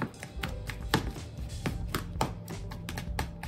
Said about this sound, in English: Get the spoon, you mix it all up